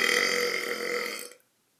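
A single loud, drawn-out burp lasting over a second, harmonic and steady, then cutting off into silence.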